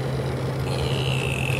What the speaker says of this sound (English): That's the sound of an old Seagate.